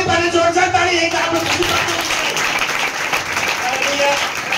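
Loud, dense applause from a church congregation rolls on without a break, with a voice speaking over the clapping.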